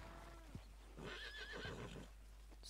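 A horse whinnies in Red Dead Redemption 2, a clear, wavering neigh rising and falling over about a second, with a few soft hoof thuds around it and no talking.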